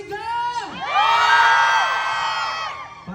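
A concert crowd at an outdoor performance erupts in loud, sustained cheering, whooping and shouting that swells and then fades over a few seconds.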